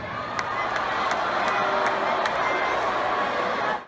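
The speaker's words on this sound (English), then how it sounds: "I can't be mad at the people booing." A large concert crowd roars continuously and loudly for a few seconds, a dense wash of many voices that fits a booing audience, with sharp scattered clicks or camera snaps above it.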